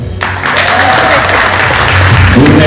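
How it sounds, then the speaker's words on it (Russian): A festival hall crowd at a film festival closing ceremony breaks into loud, sustained applause, dense clapping filling the room throughout with a faint murmur of voices underneath. "Бурные аплодисменты."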